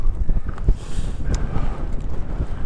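Strong wind buffets the microphone on a mountain walk up Pen y Fan and Corn Du in the Brecon Beacons, a steady rushing roar with gusty low thumps throughout, no talking.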